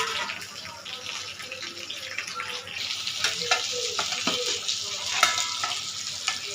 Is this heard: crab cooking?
yes